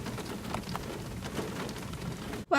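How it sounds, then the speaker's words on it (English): Steady rain patters on surfaces outdoors in the evening, a constant hiss with scattered drops. Near the end it cuts off sharply into a brief louder noise. "It's still raining."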